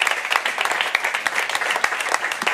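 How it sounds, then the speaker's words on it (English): A lively round of applause from the audience at the opening panel discussion of a Berlin business event, with close, crisp individual claps standing out within a continuous patter of many hands. "There we go, round of applause."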